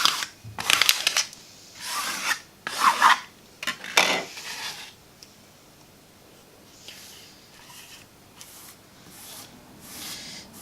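A plastic scraper is pushed over fabric to smooth it onto a Cricut Maker cutting mat, giving several close, rasping rubbing strokes in quick bursts, followed by fainter, sparser scraping.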